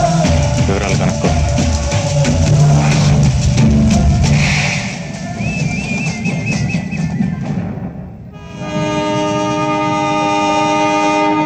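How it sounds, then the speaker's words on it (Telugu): A train starting to move: a loud clattering rumble of wheels and carriages, followed after a brief lull by a long sustained horn-like tone. "అయ్యో ట్రైన్ కదిలిపోతుంది."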